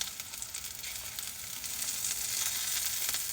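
Lion's mane mushroom pieces fry in a Tefal pan with a soft, steady sizzle and spitting that grows slightly louder toward the end, with no talking over it.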